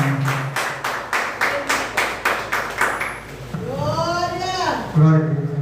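A church congregation claps in a steady rhythmic beat for about three seconds, then the clapping fades as a voice speaks and sings over it.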